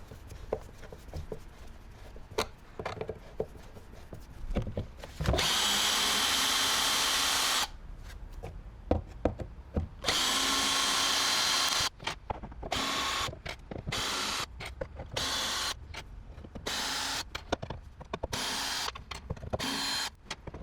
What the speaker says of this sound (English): Just undo all the Torx bolts